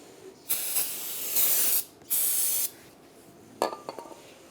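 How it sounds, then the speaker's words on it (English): Brake parts cleaner sprays onto the back side of a front brake rotor from a 2006-2009 Mercedes-Benz E350, in two loud hissing bursts followed by a short metallic clink and rattle, with no talking. "Take the rotor on the back side, just some brake parts cleaner."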